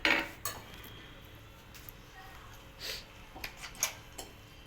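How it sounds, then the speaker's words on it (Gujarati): A metal masher working pav bhaji vegetables in a pan gives scattered light clinks and scrapes, with a sharper knock at the start and quieter taps spread through the rest. "ભાજીને મેશ કરી નાખશું હવે એનાથી."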